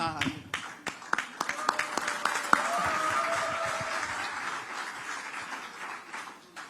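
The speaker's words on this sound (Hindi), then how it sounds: "मेरे लिए भी कुछ तालियां बज रही" A political event audience claps during an election-season appearance, a dense run of hand claps building into steady applause with crowd noise, while voices talk over it throughout.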